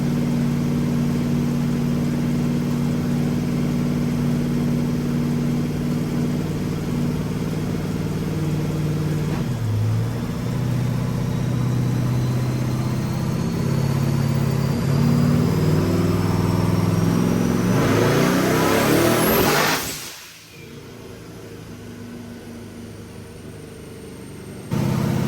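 A shop car's engine runs steadily and then revs up as it is driven, a loud mid-pitched drone that climbs to a peak before cutting off sharply, with the engine then idling more quietly.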